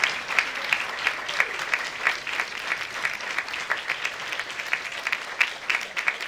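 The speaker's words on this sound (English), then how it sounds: "Yes, give Jadyn another great big round of applause." Sustained applause from an audience at an anniversary celebration evening, steady dense clapping for a young honoree that carries on evenly for several seconds without pause.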